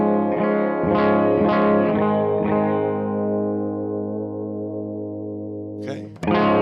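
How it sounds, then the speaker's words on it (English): Electric guitar played on the bridge pickup alone through effects, a few strummed chords ringing out with chorus and distortion and a long decaying tail, then a brief scrape and a fresh strum at the end. "this is the bridge pickup on its own."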